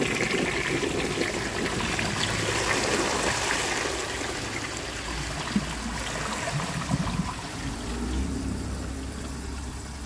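A 1959 Standard Compton toilet flushes a washcloth, with a loud rushing surge of water that gradually tapers into gurgling and trickling refill.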